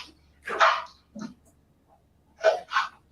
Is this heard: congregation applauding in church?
no